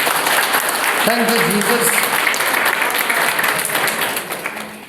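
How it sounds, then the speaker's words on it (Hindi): An audience at a Christian prayer gathering in Arunachal Pradesh claps loudly and steadily for the whole stretch, with a voice calling out briefly over the applause before it tapers off toward the end. "प्रभु को हम जोर से ताली बजाएंगे।"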